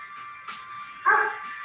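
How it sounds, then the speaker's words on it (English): Short, sharp dog barks and yips repeat close by over a steady background hum. "I don't think my dog agrees because he keeps barking."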